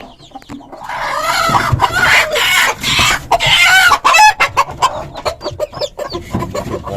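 Hens cluck busily in a backyard coop where chicks have just hatched, while a rooster crows among them; the calls are close, loud and overlapping, then break into short, choppy clucks.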